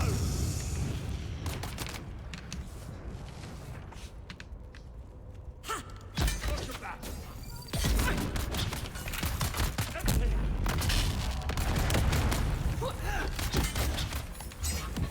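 Gunfire in the video game Dune: Awakening during a PvP fight, with dense bursts of rapid shots and thuds crackling through most of the stretch, loud and close, with a player's voice talking at times.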